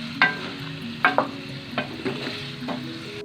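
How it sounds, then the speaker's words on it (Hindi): Chicken meat frying in a karahi with whole red chillies, a steady sizzle broken by several sharp scraping clatters of a spoon against the metal pan. "अब हम गोश्त को अच्छी तरह भूनेंगे ताकि ये सफ़ेद हो जाए।"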